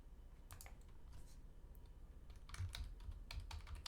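Password being typed on a computer keyboard, a quiet run of irregular key clicks with a few louder taps toward the end, no talking.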